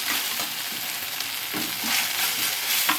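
Ginger garlic paste fries for a chicken fry with a loud, steady hiss of hot oil and a few soft stirring bumps, heard close up.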